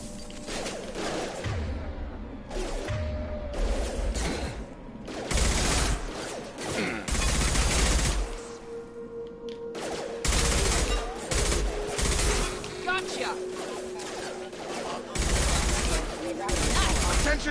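Mass Effect 2 combat against mechs brings bursts of rapid automatic gunfire in repeated volleys separated by short pauses, with mechanical clanks and game dialogue mixed in.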